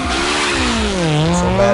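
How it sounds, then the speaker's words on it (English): A continuous, loud tire squeal comes from a burnout in Need for Speed ProStreet, a sustained wavering screech over the roar of a revving race car engine, with no talk. "he's burning his orange tires"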